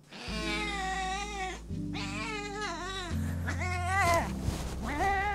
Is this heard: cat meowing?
yes